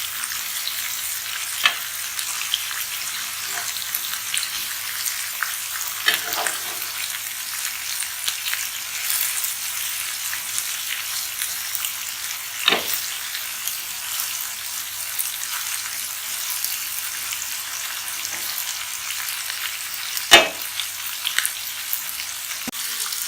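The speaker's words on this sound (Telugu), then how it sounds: "పీసెస్ రెండు వైపులా పెట్టుకుంటూ ఫ్రై చేయాలి." Fish pieces shallow-frying in a pan on medium flame for Andhra-style fish curry, a continuous bright sizzle with occasional sharp spatter pops and faint stirring, no speech.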